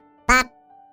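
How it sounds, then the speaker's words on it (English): A duck gives one short, nasal quack, loud and close, standing alone against near silence. "Duck"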